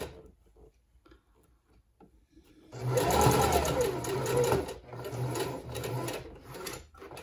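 A sewing machine runs a zigzag basting stitch along a leotard seam, starting after a quiet pause and then whirring steadily and fairly loud with a quick ticking rhythm, easing off briefly midway before carrying on.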